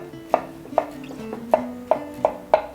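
A knife chopping ripe mango on a board, six crisp evenly spaced cuts, close and clear against a quiet background.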